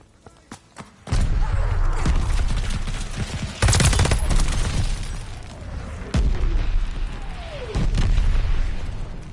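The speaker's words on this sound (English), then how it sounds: "Allied mortar fire coming!" Allied mortar shells explode in Call of Duty: Vanguard, with sharp incoming whistles followed by loud booming blasts in several spaced impacts over a rumbling battlefield, preceded by faint distant gunfire.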